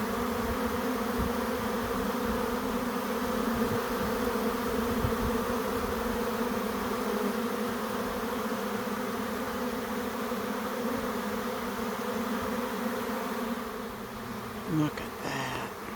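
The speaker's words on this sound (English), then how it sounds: "Just a mass of bees in the air." A honey bee swarm flies in the air around empty hive boxes, making a dense, continuous buzzing drone that holds steady and loud before easing slightly near the end.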